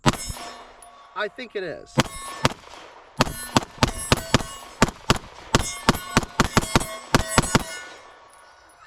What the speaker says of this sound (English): I'm shooting steel at about 15 yards right now.